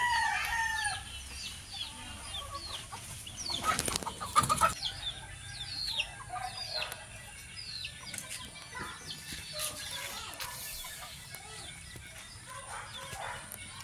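Chickens cluck and a rooster crows among young fowl, with wings flapping in a loud burst partway through and softer clucks and calls scattered around it outdoors.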